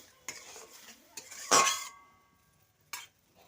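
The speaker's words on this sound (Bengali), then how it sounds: "মশলাটা ভালো করে কষিয়ে নেবো" Spice paste (masala) being stir-fried in a pan gives a few soft spatula scrapes, then one loud metallic scrape-and-clank midway and a shorter clink near the end, otherwise quiet.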